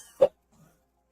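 A single short cough lands close into a microphone, followed by a faint throat-clearing rasp and then quiet.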